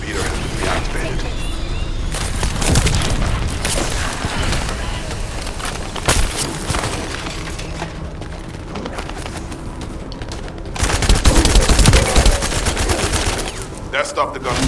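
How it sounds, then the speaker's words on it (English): Rapid bursts of automatic gunfire and mechanical clatter in The First Descendant, loud and sustained throughout with brief pauses and a heavier surge near the end. "That stopped the gunfire."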